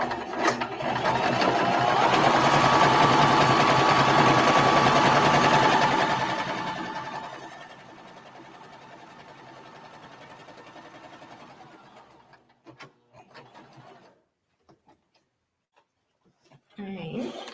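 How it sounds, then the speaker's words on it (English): A sewing machine runs steadily for several seconds, stitching a quilt flower block along a marked line, then slows and stops, leaving quiet handling noises and a burst of movement near the end. "I'm gonna sew right on that line"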